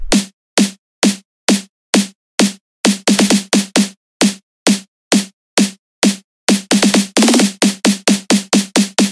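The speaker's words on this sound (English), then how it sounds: "Ang ginamit ko dito ay yung attack snare number 44 and it sounds like this." Attack snare number 44 in FL Studio Mobile forms a build-up snare, loud, dry hits repeating in a steady beat, then tightening into fast rolls that speed up twice.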